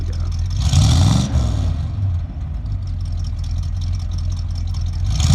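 Classic car engine warming up and revving at an outdoor car show and motorfest, a deep throaty rumble with one strong rev early on, then a steady idle with crowd noise in the background.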